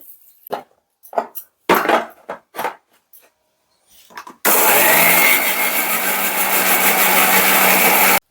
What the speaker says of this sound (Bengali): কাঁচা লঙ্কা গাছ থেকে তুলে এনেছি চলো বেটে নিচ্ছি জল দিয়ে দিচ্ছি